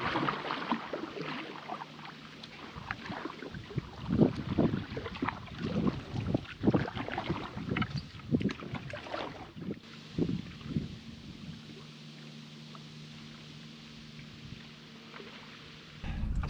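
Strong gusting wind buffets a microphone while a solo paddler works a wooden canoe across Hickling Broad, with irregular splashes and paddle strokes in the first half and steadier, softer wind rumble afterward.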